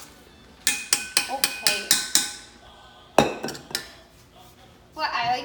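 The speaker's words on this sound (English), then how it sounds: "We're gonna just mix this up a little bit by a spoon." A spoon strikes the side of a bowl in a quick run of sharp clinks while eggless chocolate chip cookie dough is mixed, followed by a few more scattered taps and scraping, with a brief spoken word between.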